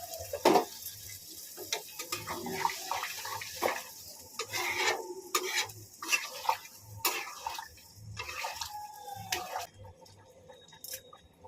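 Small potatoes stir-fried with spices in a pan for a niramish alur dom, with repeated clattering scrapes and clinks of a spatula over a low sizzle, close by and uneven in rhythm.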